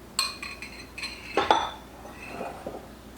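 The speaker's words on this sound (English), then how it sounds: "I'm gonna use my fork here and just kind of stir those toppings together" A fork scrapes and clinks against a bowl while stirring a brown sugar topping for a pear dessert, several sharp metallic taps and scrapes close up with quiet gaps between them.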